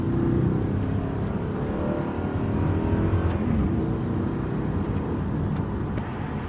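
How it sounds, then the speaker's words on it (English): Car engine revving through downshifts on a country road in Britain, a steady loud drone of engine and road noise throughout with brief rises, no talking. "Oh, those downshifts."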